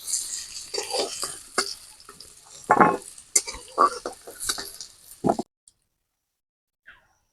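Potatoes fried with salt and turmeric are lifted out of a wok, with scraping, clinking utensil strikes and a light sizzle in uneven bursts, then silence after about five seconds.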